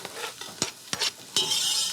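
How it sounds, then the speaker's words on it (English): Chopped onions sizzling in butter and olive oil in a pan, with a few sharp stirring scrapes and bursts of crackling frying, close and loud, no talking. "We're gonna throw in some chopped onions. Your nice sizzle."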